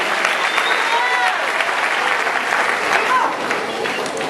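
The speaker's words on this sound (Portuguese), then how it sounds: "E pode aplaudir que ele merece" A church congregation at a cell leaders' congress bursts into loud, sustained applause, a dense crowd roar of clapping with cheering voices and shouts woven through it.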